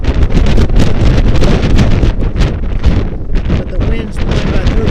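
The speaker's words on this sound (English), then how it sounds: "the wind's blowing about 30 miles an hour" Strong, steady wind at about 9,000 feet on Mount Hood, blowing around 30 miles an hour and roaring loudly against the microphone in heavy, unbroken buffeting gusts.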